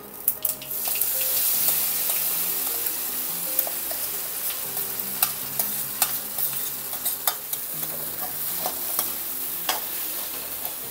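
Usili crackles as it fries in oil with mustard seeds and curry leaves, a soft, steady sizzle near the pan broken by frequent sharp pops and the scrape of stirring.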